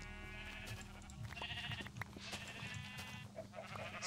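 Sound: sheep bleating in Minecraft video game

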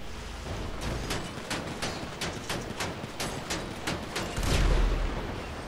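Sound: video game explosions

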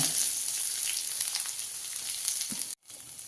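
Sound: chopped onion sautéing in coconut oil

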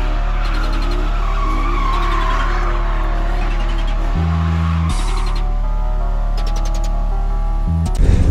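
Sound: Chevrolet Camaro 3.6 petrol car driving

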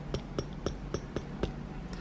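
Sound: metal BMW hood latch handle clinking

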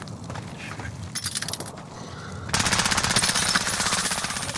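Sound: gunfire in Call of Duty Modern Warfare, video game

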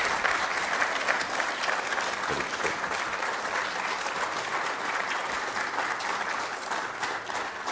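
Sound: audience applause at award ceremony

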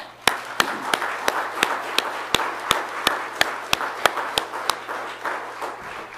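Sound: church congregation clapping hands

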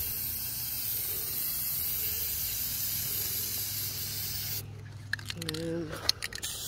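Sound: spray painting a metal file cabinet

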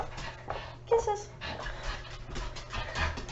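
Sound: dog whimpering and panting

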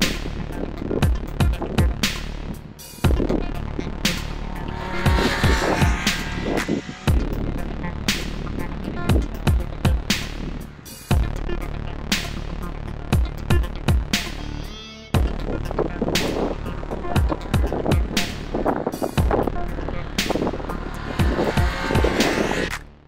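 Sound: Triumph Speed Triple 1200 RR motorcycle riding on track

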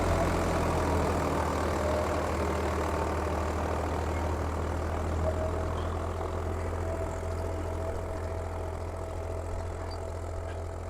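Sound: Swaraj 855 tractor engine running in field

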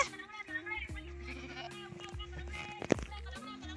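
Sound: sheep bleating

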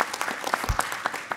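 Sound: audience applause

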